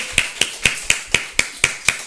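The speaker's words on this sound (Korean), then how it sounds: "우리 임찬 박수." A church congregation at a Korean Sunday service claps in unison, giving eight crisp, evenly spaced claps at a brisk, steady rhythm.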